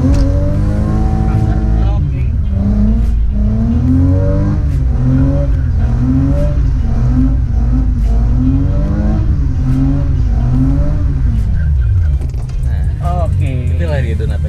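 A car engine revs hard and rises and falls repeatedly in a steady cycle while the car spins donuts. The sound is loud and close throughout.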